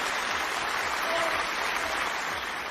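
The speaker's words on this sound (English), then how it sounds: "Can we get a round of applause for Rossi, the cleaning lady?" Steady applause from an audience, a dense continuous patter of clapping that stays even in level throughout, with no talk over it.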